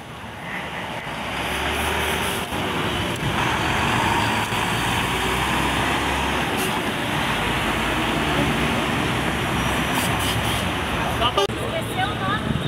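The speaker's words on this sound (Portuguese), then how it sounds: "Novamente aí o caminhão, o Volvo" A Volvo truck idles at a street car gathering in Praça da Espanha, Curitiba, giving a steady low engine rumble mixed with broad roadway noise across the whole stretch, with voices faintly present.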